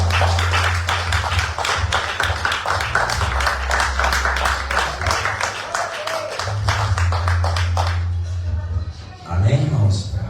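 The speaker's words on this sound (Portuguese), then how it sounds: "as palmas é para o Senhor Jesus" Church congregation clapping in rhythm during a Portuguese-language worship service, with steady claps over a low sustained tone, likely organ or keyboard, and voices mixed in, fading near the end.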